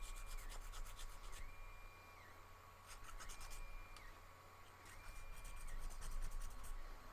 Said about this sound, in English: So we'll just give it another rub, filing, sorry.